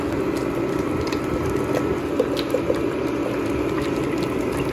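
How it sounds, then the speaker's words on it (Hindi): Hot and sour soup with thin egg whites stirred in boils in a pot, a steady low bubbling and simmering hiss with occasional soft pops, continuous and close. "सो सूप देखें बॉईल हो रहा है"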